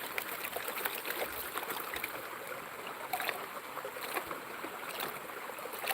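Water sloshes in a gold pan as it is shaken back and forth, a steady rushing wash like small ocean waves, moderately faint and continuous, with no talking.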